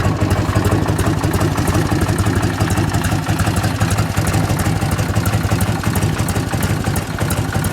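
A 1978 Harley-Davidson FLH 75th anniversary edition motorcycle idles close by, its engine giving a steady, loud, lumpy low rumble with mechanical clatter throughout.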